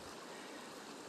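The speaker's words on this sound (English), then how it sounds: "Now we've come to a place where the water forms a deeper pool." River water flows steadily into a deeper pool, a soft, even rushing wash that stays faint and continuous with no voices.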